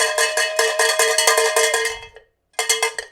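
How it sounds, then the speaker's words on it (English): A cowbell rung hard and fast during a live tool-talk stream: loud, rapid metallic clanks in an even rhythm, a brief silent pause, then another burst of strikes. "And I'm going to ring the bell."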